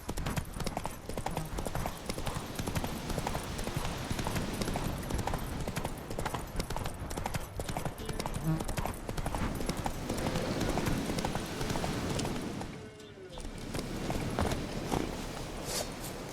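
Roach, Geralt's horse in The Witcher 3, gallops with a fast, steady rhythm of hooves, loud and continuous, with game ambience underneath and a brief dip near the end.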